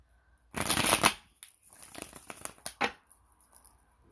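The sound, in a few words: shuffling cards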